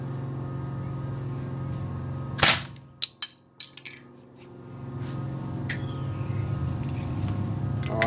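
A Sig Sauer M17 CO2 pellet pistol fires one sharp, close crack, followed by a few quieter clicks and taps against a low, steady background hum.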